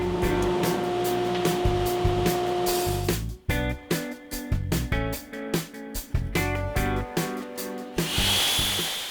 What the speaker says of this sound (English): Next, I'll run the molding through the drum sander, and this will remove any blade marks left by the table saw